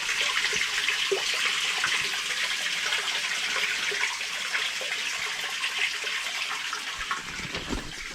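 Water trickles and splashes steadily from a cave inflow on a homestead, a continuous close rushing wash that eases slightly over time, with no voices.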